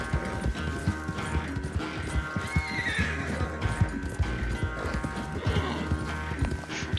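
In Red Dead Redemption 2, a horse keeps up a steady, close gallop of drumming hooves and lets out a brief whinny partway through, with game music running underneath.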